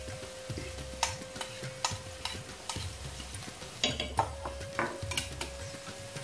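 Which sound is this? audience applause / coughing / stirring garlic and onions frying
stirring garlic and onions frying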